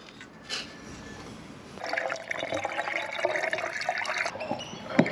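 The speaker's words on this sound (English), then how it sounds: "having that water pump is that it's going to make transferring water from the car to the caravan a lot quicker and a lot easier" Water gushes through a hose from a pump into a caravan filler at a campsite, starting after a short pause and running as a steady splashing, trickling stream with small spikes, close by and with no talking.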